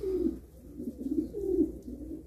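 Pigeons coo in a series of low, throaty, rolling calls, close and fairly loud, repeating several times over a soft background hum with no talk.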